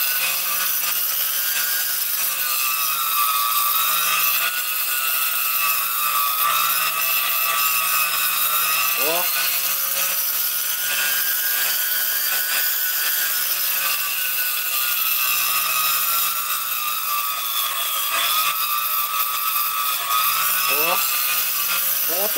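Scissor blade being ground on a sharpening tool to take metal off, a steady loud continuous grinding hum running throughout with a few brief scraping shifts in pitch.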